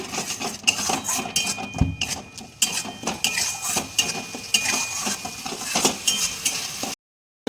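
Ground cumin, turmeric and Kashmiri red chili powder are stirred and fried in a pan for katla fish curry, heard as rapid, close clanking and scraping of a metal utensil against the pan, ending abruptly in silence.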